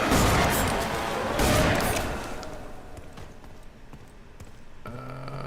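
Gunfire in the shooter game F.E.A.R. 3 opens loud, with a rapid burst of shots in the first two seconds. Scattered fainter reports follow and trail off over a low game background.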